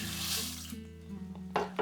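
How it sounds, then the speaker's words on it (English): Rice is poured into a pot of cold water, making a steady, fairly soft rushing patter that thins out midway, then a brief louder burst near the end. "Make sure that as you pour the rice in, you actually spread it evenly across the pot."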